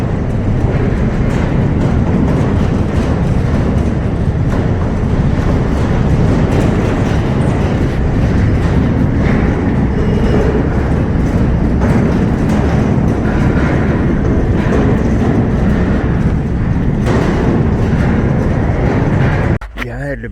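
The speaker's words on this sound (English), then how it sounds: "They're yarding this train." A freight train rumbles steadily along the rails into a rail yard in Knoxville, loud and close, with continuous clanking and rolling noise throughout.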